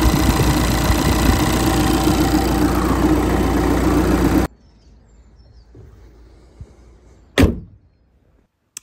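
Audi Q5 engine idling steadily after an auxiliary belt replacement, loud and close for several seconds, then cut off, followed by quiet shuffling and a single sharp knock.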